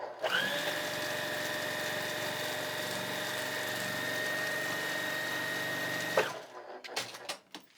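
Sewing machine stitching a paper-pieced quilt block, a steady whirring run of rapid stitches for about six seconds that then stops abruptly, followed by faint handling sounds.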